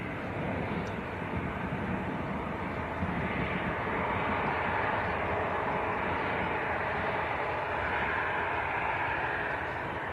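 An airliner's jet engines roar steadily as the Saudi Arabian aircraft moves along the runway at Manchester Airport, a broad, continuous rumble that stays loud and even throughout, with no talk over it.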